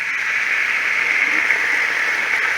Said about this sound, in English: Now it's time to add this beef.